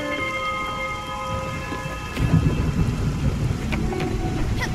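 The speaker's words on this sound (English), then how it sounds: "A storm! Let's try and catch some lightning." A thunderstorm in the Spiritfarer game, with steady rain hissing and a low rumble of thunder that swells midway and rolls on beneath the downpour.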